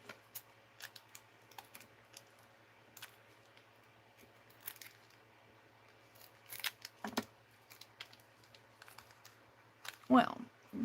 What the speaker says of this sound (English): Find my scissors here.